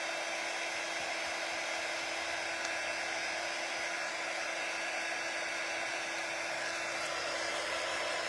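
A hair dryer blows on a painted craft project in a constant, close, whining whoosh that holds steady throughout, with no talk.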